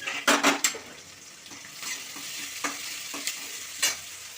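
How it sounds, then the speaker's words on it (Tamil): Mustard seeds pop and crackle in hot oil in a pan with shallots and garlic, a few sharp spatters at first, then a steady sizzle with light stirring. "கடுகு நல்லா பொரிஞ்சிக்கிட்டு இருக்குது"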